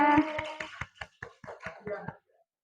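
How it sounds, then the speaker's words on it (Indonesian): A fourth-grade class clapping together in rhythm, about ten distinct claps in an even beat, with a voice over the first few and a brief quiet tail. "tepuk tangan semuanya"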